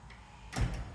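A locked door at Eureka City Hall in Illinois being tried, with a quick metallic rattle and clunk of the handle and latch, close and brief.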